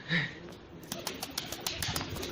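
A soft pigeon coo rises briefly at the start, followed by a series of light, rhythmic tapping sounds against a steady background hiss, on a balcony.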